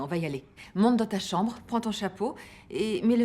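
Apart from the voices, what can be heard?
No everyday noise stands out behind the speech.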